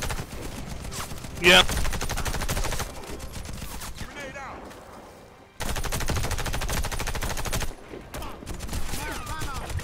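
Heavy .50 cal machine gun firing in the co-op shooter video game Warface, dense bursts of rapid gunfire broken by short pauses, with a brief spoken word and game sounds mixed in.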